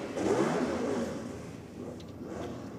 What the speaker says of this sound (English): Listen to this thing rev when he comes up to the start line.